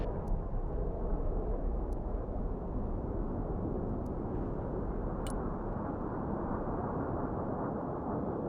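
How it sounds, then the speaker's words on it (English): A dense, continuous rumble of aircraft cannon fire and explosions from a close-air-support strafing run in the tactical RTS Broken Arrow, loud and steady, with a few sharp cracks on top. "Roger, strafing the area."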